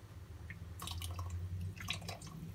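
Milk is poured into semolina halva cooking in a pan, a faint brief bubbling and splashing trickle over a low background hum.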